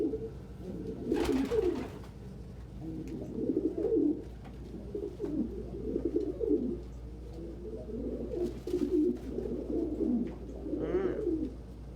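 Pigeons coo in low, rolling phrases that repeat steadily through the stretch, moderately close but soft, with a few brief sharp noises in between and no talking.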